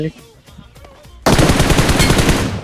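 Gunfire from the mobile game PUBG Mobile: after a stretch of speech, a loud, rapid automatic burst breaks in and continues steadily to the end.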